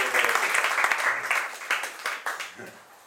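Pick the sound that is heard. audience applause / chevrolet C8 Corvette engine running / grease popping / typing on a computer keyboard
audience applause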